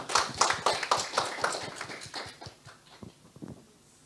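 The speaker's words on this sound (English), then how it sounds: "we should have like a round of applause" A small group claps at an education newsletter session of EduWiki 2023, with brisk, fairly quiet claps thinning and tapering off into near silence.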